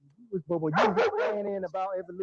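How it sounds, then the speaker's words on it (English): A dog barks a few times in the background of a room while someone talks over it, the yaps partly buried under his voice. "yeah, that's my dog, man, in the background."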